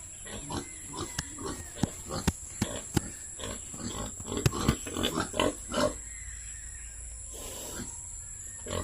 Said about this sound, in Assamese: আৰু এইটো মাইকী গাহৰি